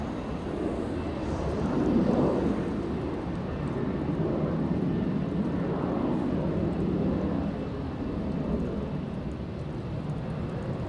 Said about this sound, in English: We'll go for this one, the E175. Next takeoff, flying to Phoenix.